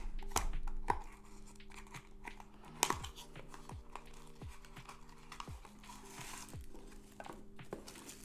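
A small cardboard box holding plastic-bagged drone landing gear is opened close up, with crisp scattered clicks, tearing and crinkling rustles over a low steady hum.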